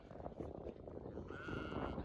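A sheep bleats faintly inside a Bedouin tent in Jordan, a short wavering call rising over a murmur of background noise and quiet voices.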